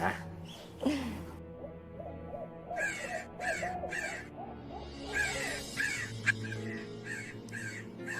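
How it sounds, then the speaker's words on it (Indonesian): A crow caws repeatedly in short harsh calls, fairly loud, over low background music and ambient noise. "Ada suara burung gagak lagi, Pak."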